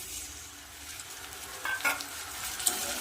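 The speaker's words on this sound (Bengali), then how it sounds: "পেঁয়াজ ভাজা হয়ে এসছে এবার এখানে দিয়ে দেবো আদা বাটা" Onions frying in a pan with ginger paste and spices such as cumin and chili powder being added, a steady soft sizzle with a few sharper scraping stirs near the end.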